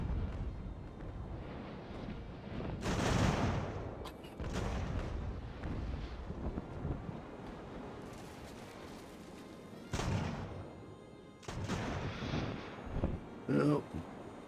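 Naval cannon fire from sailing warships in the game Ultimate Admiral: Age of Sail, several heavy booms rolling out over a rumbling battle bed, with people talking through it.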